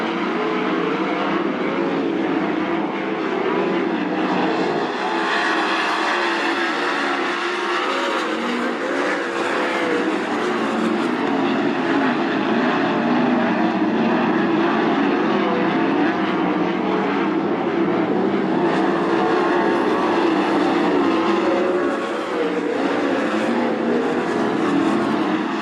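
410 sprint cars roar around the dirt oval at Attica Raceway Park, a loud, continuous howl of several engines rising and falling as the field races past, with no talk over it.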